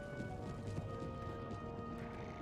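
Heavy cavalry horses in the battle game Empire: Total War, a dense, continuous wash of galloping hooves and occasional whinnies blended with steady battlefield ambience, with no speech.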